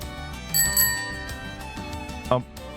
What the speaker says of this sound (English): bell ringing from behind